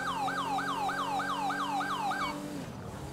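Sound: police car siren in the video game GTA 5

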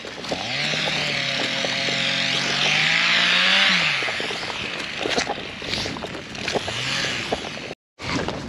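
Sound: chainsaw cutting wood in the distance

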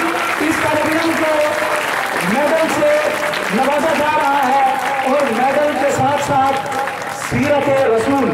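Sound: applause for a naat competition prize winner

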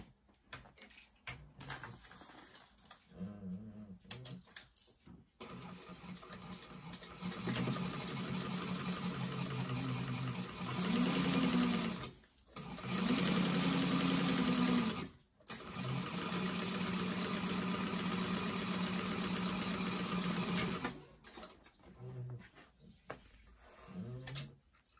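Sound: sewing machine stitching a bag seam

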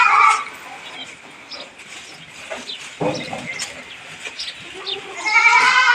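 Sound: goats and young goat kids in a farm pen

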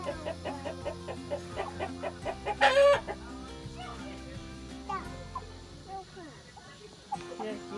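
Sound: rooster and hen clucking

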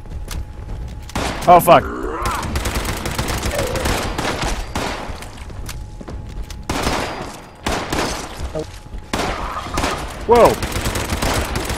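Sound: gunfire in the video game Fallout 76

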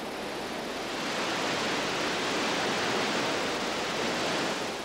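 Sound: Niagara Falls waterfall rumbling

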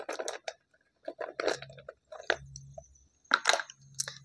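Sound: chewing very hard food loudly

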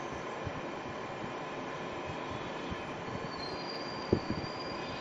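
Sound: BLDC motor running at high speed

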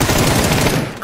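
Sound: gunfire shooting car tyres in video game PUBG

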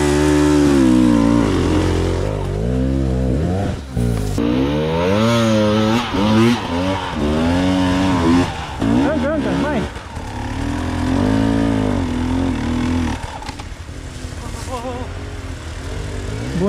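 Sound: enduro motorcycle engine revving on a hill climb

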